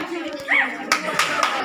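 Children clap their hands during a classroom maths activity on angles: a few sharp, separate claps ring out near and loud, with voices talking throughout.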